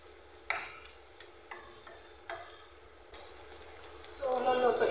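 Onions seasoned with salt and black pepper sauté in a pan for Moroccan kefta tagine, with a few soft spoon taps and scrapes before a louder sizzle swells up near the end.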